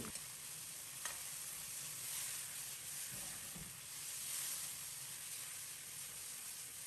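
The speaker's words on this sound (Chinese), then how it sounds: "炒至肉片全部变白变色以后，放入准备好的姜片、蒜片，继续把小料煸炒出香味。" Beef slices with ginger and garlic stir-fry over high heat in a wok, giving a fairly quiet, steady sizzle and hiss with occasional utensil scrapes. No one talks.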